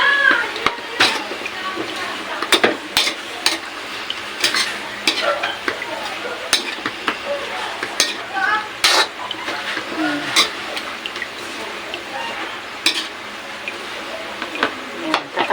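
Chopsuey vegetables sizzling in a hot pan while being stirred, with steady frying hiss and repeated sharp clinks of a spatula against the pan, close and clear with no talk.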